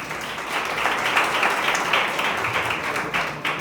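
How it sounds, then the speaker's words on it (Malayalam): Applause at an anniversary celebration ceremony as a prize winner is announced, a dense, steady crowd of hands clapping loudly and continuously throughout. "നല്ലൊരു കൈയടി."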